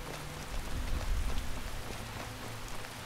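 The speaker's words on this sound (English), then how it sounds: "Yeah, well, a little rain's never hurt anyone." Steady rainfall in the Skyrim video game, a continuous hiss of drops on the ground in heavy weather with a low rumble swelling briefly near the start, heard alone.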